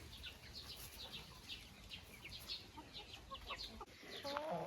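Marans hen clucking at a dacha poultry yard, soft repeated clucks and murmurs among other fowl, faint and somewhat distant over low background noise, with a brief clearer call near the end.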